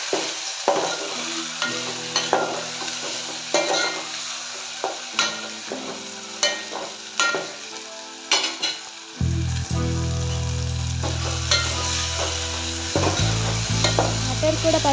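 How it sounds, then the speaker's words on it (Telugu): Green peas frying in a pan with softened tomato and potato, a steady close sizzle with intermittent stirring scrapes, the frying growing louder and denser in the second half. "మటర్ కూడా పచ్చివాసన పోయేంత వరకు వేయించాలి"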